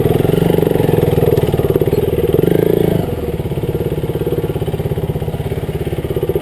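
Several KTM Duke 390 motorcycle engines idle close by on an enduro outing, a loud, chugging, evenly pulsing rumble that settles a little lower and quieter about halfway through.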